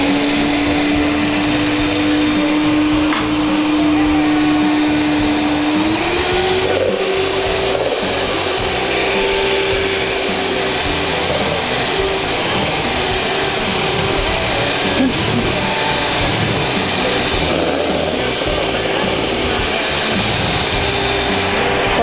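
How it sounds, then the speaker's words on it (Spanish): An electric mixer beats egg whites to stiff peaks for a lemon sponge cake: a loud, continuous motor whine that holds steady for over twenty seconds, shifting slightly higher in pitch partway through. "Batimos las claras a nieve."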